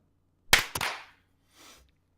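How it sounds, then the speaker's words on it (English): Two quick, sharp hand claps close together, followed by a fainter, softer clap or slap shortly after. "we're doing this clap in 3, 2, 1"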